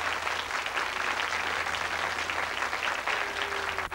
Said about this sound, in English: Give him a clap for doing that.